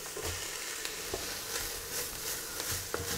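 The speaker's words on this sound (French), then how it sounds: "on poursuit à peu près pendant 2-3 minutes encore la cuisson avec le céleri" Celery sizzles steadily in a hot pan while cooking, with a continuous broadband hiss and occasional clicks of stirring, close and alone, no talk, during preparation of a stuffed Christmas turkey.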